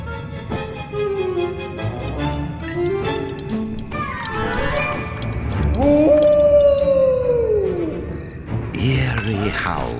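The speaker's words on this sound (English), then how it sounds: "Eerie howls echoed through the Snacker Bosk's shadowy branches" Eerie wolf howls in the puppet-theater game Puppeteer, several long, wavering, rising-and-falling cries that swell loudest near the middle over background music, with a narrating voice speaking around them.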